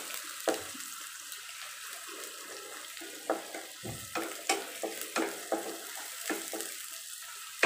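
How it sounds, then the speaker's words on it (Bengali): Chopped onion frying in hot oil in a pan: a continuous soft sizzle with repeated clinks and scrapes of a spoon stirring, close and moderately quiet, with no talking. "এখানে আমি দিয়ে দিচ্ছি তেল। এখন আমি দিয়ে দিব পেঁয়াজ কুচি"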